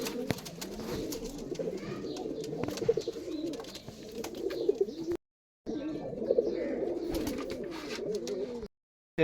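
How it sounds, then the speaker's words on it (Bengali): Teddy pigeons coo in soft, repeated throaty rolls close by, several birds overlapping continuously with faint rustles and clicks, no talk, broken by two short silences. "এটা নর এটা টেডি কবুতর নর"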